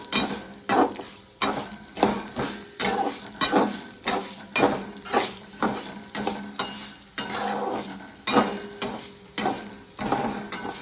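Chana dal, urad dal and coriander seeds fry in oil for curry leaf powder, giving a steady close sizzle with regular, rhythmic scraping stirs throughout and no talking.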